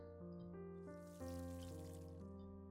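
Crops being watered in the farming game Pumpkin Days, heard as a steady pouring, trickling water effect lasting about three seconds under layered game music tones.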